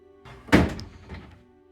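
In an abandoned house, an old wooden drawer is pulled open, giving a brief scrape and then one sharp wooden thunk, followed by a softer knock as it settles, heard close up with no voices.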